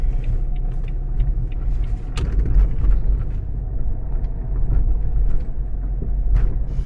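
Steady low rumble of a car driving, heard from inside the cabin, with continuous road and engine noise and a few small knocks and bumps, with no talk over it.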